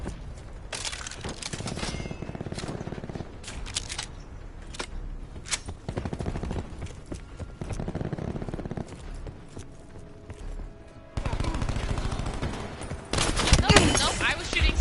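Bursts of gunfire in a Call of Duty match, repeated volleys and sharp shots loud and close, broken by short pauses and heavier near the end.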